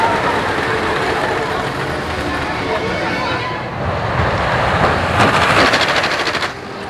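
Liseberg Bahnen roller coaster at Liseberg amusement park, a continuous loud rumbling and clattering of the cars on the track, with a rattling burst of wheel noise near the end.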